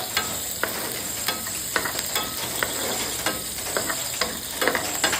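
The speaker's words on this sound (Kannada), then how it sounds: "ಗಾರ್ಲಿಕ್ ಬೆಳ್ಳುಳ್ಳಿ ಮತ್ತು ಗ್ರೀನ್ ಚಿಲ್ಲಿ ಎರಡು ರೆಡ್ ಚಿಲ್ಲಿ ಎರಡು ತಗೊಂಡು ಫ್ರೈ ಮಾಡ್ತಾಯಿದ್ದೀನಿ" Garlic with green and red chillies fries in hot oil in a pan for restaurant-style dragon chicken fried rice, giving a steady sizzle broken by frequent sharp scraping stirs of a spoon, close up and without speech.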